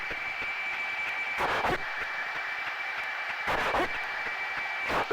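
A pilot's anti-G straining maneuver breathing demonstration for a Blue Angels flight: repeated sharp, forceful breath bursts with hissing exhales, about three in five seconds, close and loud over a steady hum with a high tone.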